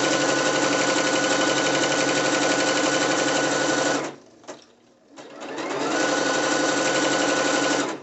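A sewing machine stitches a drawstring side-ruched dancewear skirt, running loud and steady at close range, then pausing briefly near the middle before starting up again and continuing without talk.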